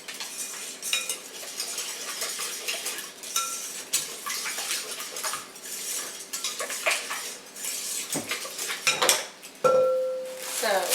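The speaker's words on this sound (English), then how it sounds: "we're just going to break those eggs up" Eggs are whisked in a bowl for a French toast bake, with rapid metallic clinking and scraping of a utensil against the bowl in uneven bursts and a few louder knocks of dishes.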